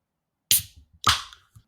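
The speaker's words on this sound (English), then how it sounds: "So I shall crack the can." A beer can is cracked open with two sharp hissing pops in quick succession, close and fairly loud, with no talking.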